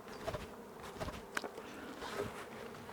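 Honey bees buzz close and fairly quietly, a dense drone with small swells as individual insects fly past.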